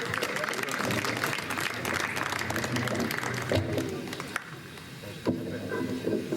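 An evening audience applauds a poetry reciter with dense, sustained clapping that thins out toward the end, with voices and murmuring mixed in.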